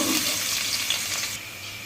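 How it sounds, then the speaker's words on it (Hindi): Onions frying in ghee in a kadhai on the stove, a loud continuous hissing sizzle that eases slightly toward the end, with no voices. "घी डालने के बाद हम इसमें डालूंगी प्याज"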